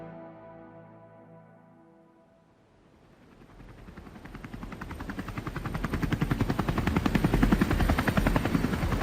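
A helicopter powers up for a flight out over the North Sea to a gas installation. The engine whine starts quietly, then the rotor builds into a loud, rapid, steady chop that grows stronger and stays close throughout.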